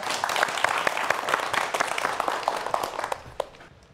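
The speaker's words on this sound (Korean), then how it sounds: "박수 부탁드리겠습니다." Audience applause at a televised science lecture on earthquakes, a dense, steady wash of many hands clapping that fades toward the end.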